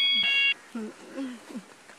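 A mobile phone ringtone gives a bright electronic tone for about half a second, then cuts off as voices start talking.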